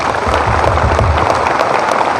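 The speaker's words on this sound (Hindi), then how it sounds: "उनके सम्मान में एक बार जोरदार ताली में चाहता हूं" Strong, loud applause from an audience at a business gathering, dense and continuous over a low rumble of room noise for the whole short stretch.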